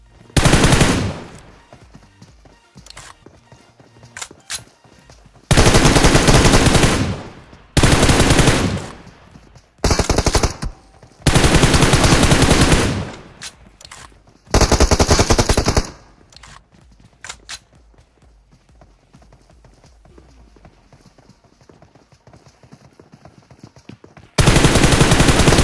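Automatic gunfire in PUBG Mobile during a squad fight, several loud bursts spread across the stretch with quieter gaps between, and a final burst at the end.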